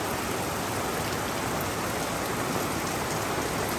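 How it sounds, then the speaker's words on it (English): Heavy rain pours steadily outside in Chattanooga, Tennessee, a dense, even hiss of water with no pauses or other sounds. "today it is pouring down rain"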